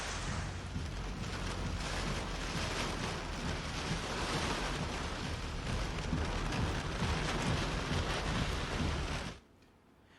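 Steady heavy rain pours down in a dense, even hiss of drops on surfaces, close and continuous, then cuts off abruptly near the end.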